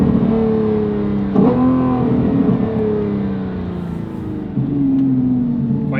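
Lamborghini Revuelto fitted with a Valvetronic Designs race exhaust revs hard with a high-pitched, F1-like scream, its pitch climbing and dropping across several loud, close blips over a steady engine drone.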